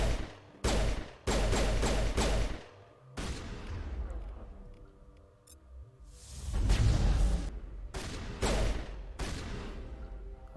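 Mass Effect combat gunfire comes in loud repeated bursts with heavy booming shots, rapid volleys broken by short pauses and a whooshing lull, close and dense throughout.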